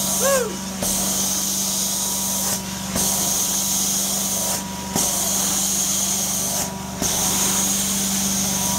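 An Inferno 3047 Eruption carpet cleaning extractor, 2014 model, runs with a loud steady whine during vacuuming strokes, cutting out briefly about every two seconds between passes.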